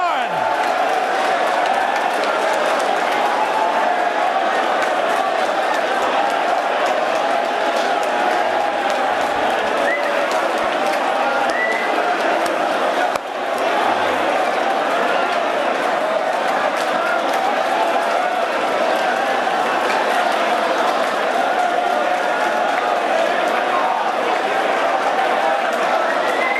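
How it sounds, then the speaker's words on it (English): A live audience cheers someone on with a loud, sustained roar of shouts and whoops that runs unbroken for nearly half a minute, with only a momentary dip near the middle. "Cheer him on like he's the fucking champ, like you're hearing God speak."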